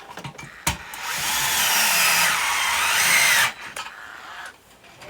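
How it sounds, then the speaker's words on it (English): A power drill drives screws to mount a 4 ft LED strip light, a loud sustained whine of nearly three seconds with short clicks and bursts before and after, close by. "So I'm gonna throw some screws in here right quick."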